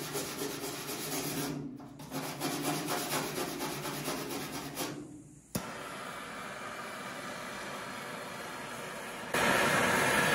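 Close, rhythmic scrubbing of a wire brush on a Ford Falcon XY ute's metal panel, giving way to a steady hissing roar of a torch burner heating it.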